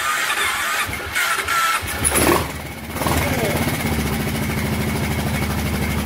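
A Kawasaki Brute Force 750 ATV engine, freshly rebuilt with carburetors just refitted, cranks with a few clanks and catches at about two seconds, then settles into a steady, loud, rumbling idle with a pulsing low throb.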